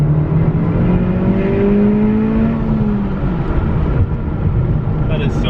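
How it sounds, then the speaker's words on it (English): A 2019 Honda Civic Type R accelerates along back roads, engine note rising smoothly through gears with a steady road and wind roar underneath, heard from inside the car. "I love the way this car accelerates, and it's so smooth."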